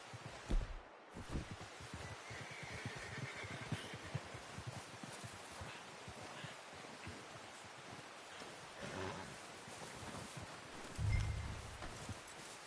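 A horse in Red Dead Redemption 2 walks with soft, steady hoof clops over a dense bed of rustling, rain-like ambience. The sound is faint throughout, with a low thump near the end.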